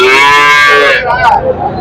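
A Jersey cow lows loudly at a busy cattle market, one long sustained harmonic moo, close and dominant, before fading into a second, rougher call.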